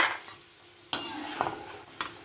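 Peanuts are roasted and stirred in a hot pan for mango chitranna, with scraping stirs and light sizzling in close, irregular strokes.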